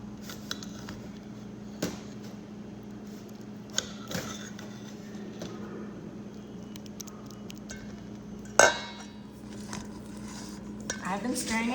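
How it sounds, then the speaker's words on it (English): A spatula stirs yogurt flatbread dough in a bowl, making soft, irregular scrapes and light taps over a steady background hum, with one sharper clank near the end. "I've been stirring it for about a minute now, and as you can see, it's coming together and it's beginning to form a ball."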